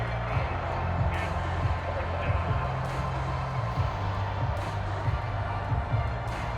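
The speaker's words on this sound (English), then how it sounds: "How about some applause for the defense there?" Crowd noise from a simulated American football game in Madden 23, 49ers at Bills, with a steady roar of cheering and applause across the stadium and sharp thumping impacts mixed in.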